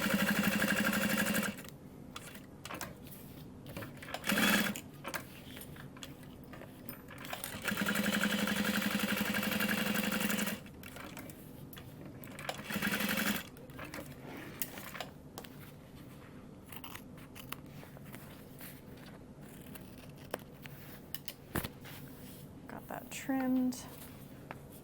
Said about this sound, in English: Top stitch this at 1/8.